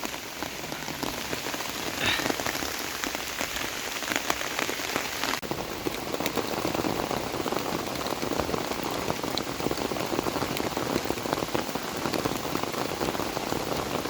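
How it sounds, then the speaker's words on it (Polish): A cloudburst pours down steadily in a dense, continuous hiss of drops striking surfaces nearby, while fishing beside the Bug River, with no voices, holding constant throughout. "A dziś poszliśmy na ryby i jest urwanie chmury."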